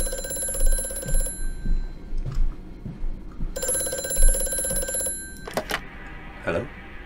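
In the horror game Amnesia: A Machine for Pigs, an old telephone bell rings in two long bursts separated by a pause, loud and metallic over low ambient rumble, followed by faint clattering.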